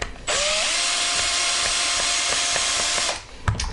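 A power drill works on GHD hair straighteners, starting with a rising whine and holding a loud, steady, close whir for about three seconds before winding down, followed by a few clicks.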